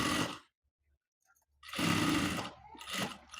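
An electric sewing machine stitching a princess-cut blouse seam runs in short close bursts with a steady whirring hum, pausing briefly between runs.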